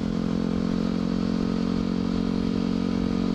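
A motorcycle rolls along on light throttle, its engine giving a steady, close droning rumble with faint rattling and road noise, and no speech.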